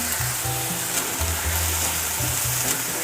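Chicken keema frying in a pan with onion, green chili, salt and red chili powder, a close, continuous sizzle with spattering crackle and a low hum underneath, nobody talking.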